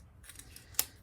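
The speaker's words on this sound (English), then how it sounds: "So I'm going to cut these in half." A brief pair of scissors snips through paper while assembling a Disney-themed 8x8 pop-up mini album page, with a single crisp cut standing out in a quiet room.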